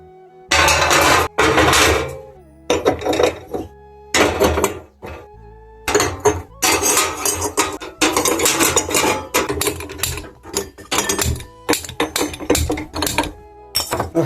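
A heavy gas stove, washed earlier, is reassembled with loud metallic clanks, rattles and scrapes coming in irregular close bursts with short pauses between them.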